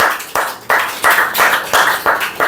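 Audience clapping at a spoken English seminar in sharp, regular bursts, about seven rhythmic clusters of hand claps that are fairly close and loud, with no talking.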